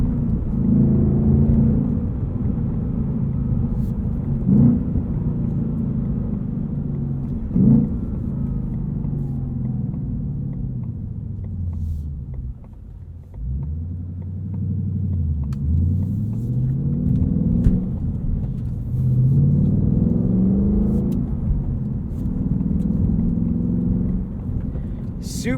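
Manual 2022 Ford Mustang Mach 1 with handling package, its engine rumbling from the cabin and repeatedly revving up high then easing off, loud and close, with a voice talking over it.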